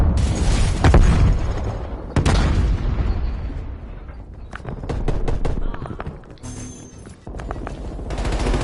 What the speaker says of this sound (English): Throwing frag grenade.